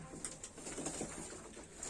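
Soft, distant pigeon cooing, faint and repeated against a quiet background.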